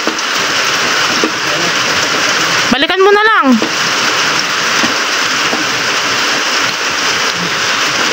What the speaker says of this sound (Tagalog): gawa ng umuulan